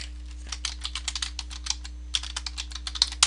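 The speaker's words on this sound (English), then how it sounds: "just hit F2 on your keyboard and then just type in what you want to name it" Quick, uneven keystrokes on a computer keyboard while naming a layer in GIMP, a close clatter of light clicks running almost steadily over a low electrical hum, with a short pause midway.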